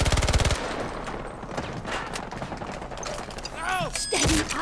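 AC9 submachine gun firing in Battlefield 2042, a fast, loud automatic burst at the start followed by scattered shots and game effects, with rising whooshing tones near the end.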